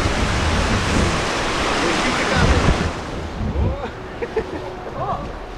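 Small waterfall rapids on the Siesartis river roar loudly around a kayak for about three seconds, then the rush drops to a softer flow while voices talk.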